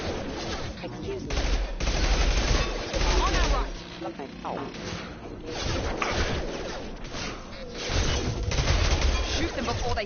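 Sci-fi shooter gunfire from Mass Effect 2 rattles in dense bursts of rapid shots and crashes across ten seconds, loud and continuous with brief lulls, while a voice speaks over the combat.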